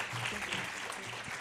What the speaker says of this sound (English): let's bring a warm round of applause for all the people on the stage